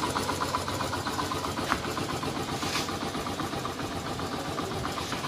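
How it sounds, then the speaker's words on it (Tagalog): A Yamaha XTZ125 motorcycle engine idles steadily close by, a dense, even mechanical chugging that holds without revving. "pakinggan nyo ito na makina ko"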